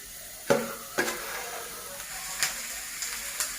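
Pork sizzles in a hot pan for northern Thai larb khua, with a few sharp scraping stirs and clinks breaking through the steady frying hiss.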